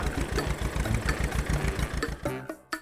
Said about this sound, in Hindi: अब ट्रैक्टर शहर के अस्पताल पहुंचा।